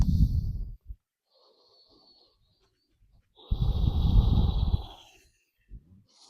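Deep breathing during a slow floor stretch in a quadruped yoga flow: one long, close, airy exhale, a quiet gap, then a second, longer breath with a slight rasp.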